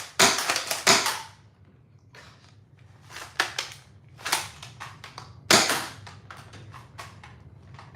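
A 3D printed dart blaster fires darts: a rapid string of sharp, loud pops at first, then scattered single shots with quieter handling clatter in between.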